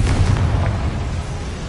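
Blast spell cast to light a boiler in the game Hogwarts Legacy, a dense rumbling burst with fiery roar that holds fairly loud and steady for under two seconds.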